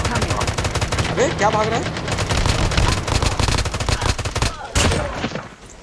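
Sustained automatic gunfire from a Call of Duty Mobile squad match, dense rapid bursts firing nearly nonstop and loud, with a player briefly speaking over the shooting.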